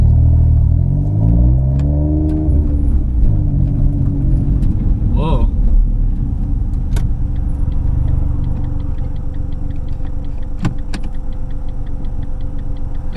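A car out on a test drive after a ball joint repair, its engine rumbling steadily at low speed with a rising rev early on and a few small ticks and clunks.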